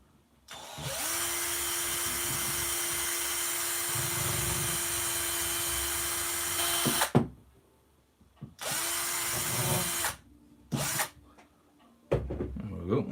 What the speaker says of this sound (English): I'm letting the drill do the work.